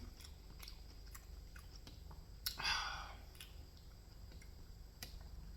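Close, quiet chewing of Peruvian ceviche: soft wet smacks and small clicks run through the clip, with a slightly louder mouthful midway and no talking.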